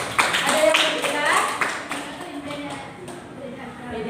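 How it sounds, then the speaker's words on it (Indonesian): In a school classroom, a group of children clap for a student group. The claps are loose and uneven, with voices talking over them, and the clapping trails off after a couple of seconds. "Ya, tepuk tangan untuk kelompok 4."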